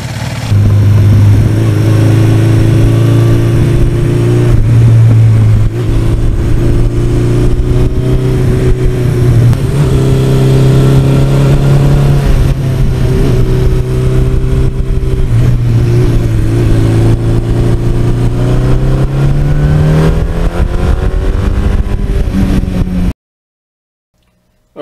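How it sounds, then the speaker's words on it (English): A 1982 Suzuki GS1100E motorcycle engine revs loudly and close, rising and falling through several throttle blips over a steady running drone before cutting off abruptly at the end. "Everybody that has one of these knows this was the drag race engine of the century."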